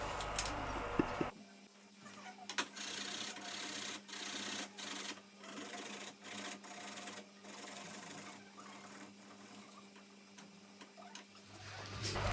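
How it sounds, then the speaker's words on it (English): Potatoes being grated by hand on a grater, a steady rasping scrape broken into repeated short strokes with brief pauses between them, close and fairly quiet, with no talk. "I'm going to take my grater and I'm going to crush it or grate my potatoes like so"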